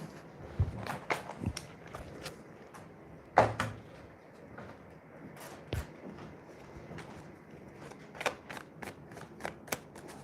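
Tarot cards are shuffled close by in short bursts of crisp riffling and slapping, with scattered soft knocks and handling noises in between, quiet overall.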